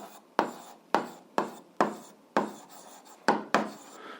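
A pen writing an answer to an algebra exercise on paper, close by and quiet: eight sharp, evenly spaced strokes, each starting with a tap and scratching briefly before fading.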